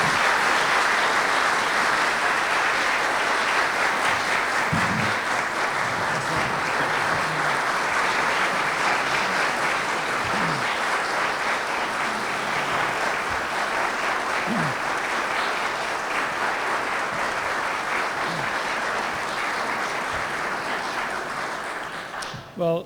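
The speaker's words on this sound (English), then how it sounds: "a round of applause for the mayor" Sustained audience applause at a chamber of commerce city address, a broad even wash of many hands clapping that carries on for over twenty seconds before tapering off, with faint voices underneath.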